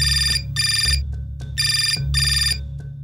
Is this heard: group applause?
no